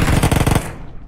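Rapid Uzi submachine gun burst in PUBG, a dense loud volley of shots lasting about half a second, then a fading tail with no talk.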